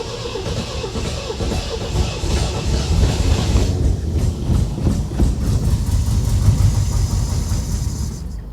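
A 1975 MGB engine, revived after sitting for 16 years, runs with a loud, rough, continuous rumble and rapid rhythmic chugging that holds steadily throughout.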